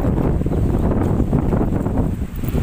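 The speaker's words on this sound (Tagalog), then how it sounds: "Mahangin." Steady wind buffeting the microphone on an island, a continuous low rumble with gusty rustling that stays loud throughout, no voices.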